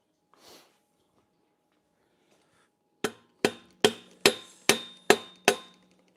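Seven sharp, ringing hammer taps at a steady rhythm strike a part on a custom Standard Byke Trail Boss BMX bike being built in a bike shop, loud and close after a quiet start.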